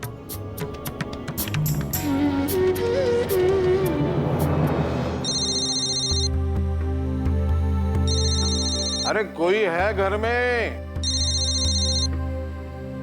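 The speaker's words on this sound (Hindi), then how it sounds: "ये फोन बज रहा है।" A telephone rings in a household drama scene, three bursts of repeated electronic bell trills under background music and a man calling out.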